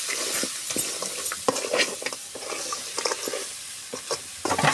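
Masala sautéing in a hot pan for fish curry, with oil sizzling and a spoon scraping and stirring in quick, irregular strokes, close and fairly loud, no voices.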